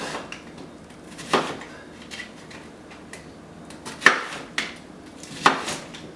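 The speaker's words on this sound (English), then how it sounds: "Then I cut the onion into chunks because it's easier to put in the food processor that way." An onion is chopped into chunks with a knife on a board, three distinct sharp chops spaced a couple of seconds apart with softer taps between, close and clear without talk.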